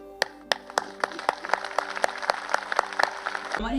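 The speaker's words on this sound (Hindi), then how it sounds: "कहते हैं यीशु के लिए ताली बजाओ, तो ताली ऐसे नहीं," Church audience breaking into applause, a few distinct claps at first that quickly thicken into dense crowd clapping and then cut off abruptly.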